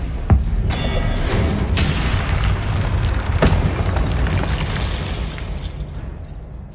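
Confringo fire spell blasts in Hogwarts Legacy, the video game: a sharp bang at the start and another midway, each followed by a long rumbling roar that fades out toward the end.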